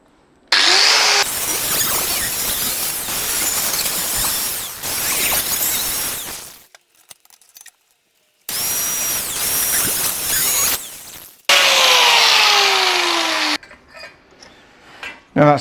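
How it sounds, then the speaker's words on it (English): Angle grinder with a cutting wheel slicing through a metal roof part, loud harsh grinding in several long bursts separated by brief silent pauses, close by. "Death wheel a go-go."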